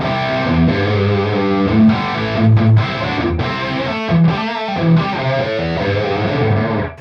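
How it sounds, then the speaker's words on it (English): An electric guitar plays through a Revv G20 basement room reverb effect, with distorted chords and notes ringing out in a subtle, small-room ambience, loud and alone. "So those are more subtle room type effects, little studio type effects. Basement."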